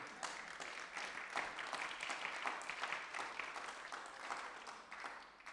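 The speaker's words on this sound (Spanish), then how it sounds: "Dale un aplauso al Señor." Church congregation applauds during a Spanish-language sermon by Pastor Ismael Escobedo, a quiet, distant spread of clapping that swells and fades over a few seconds.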